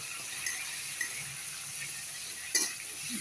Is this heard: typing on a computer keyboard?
no